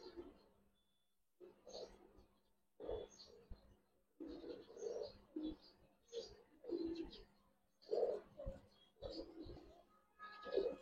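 A pair of Gribaz Muslodom pigeons coos softly at close range in a repeating rhythm of short throaty bursts separated by brief pauses.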